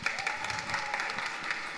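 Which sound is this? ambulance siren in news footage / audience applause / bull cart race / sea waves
audience applause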